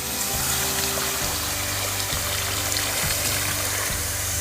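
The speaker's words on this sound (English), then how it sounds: "he's filled up that dry bag of water, and we're now going to put the fire out with devastating effect." Water poured from a dry bag onto a campfire in a New Zealand rainforest makes a steady, loud rushing splash with rhythmic low pulses, close and continuous, with no talk.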